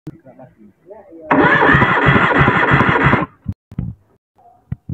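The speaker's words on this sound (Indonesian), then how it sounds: "Kita starter sampai jarum bergerak lagi." A car engine is cranked on the starter for a cylinder compression test, giving a loud, steady whirring churn that lasts about two seconds and then stops abruptly, with short clicks and a voice around it.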